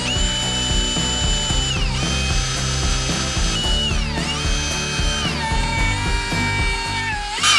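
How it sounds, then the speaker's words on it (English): Power drill boring through metal with an oiled bit while installing a supercharger on a truck, a loud continuous ratcheting whine whose pitch dips and recovers several times as the bit bites, close and steady throughout. "And I'm gonna hopefully drill this easily."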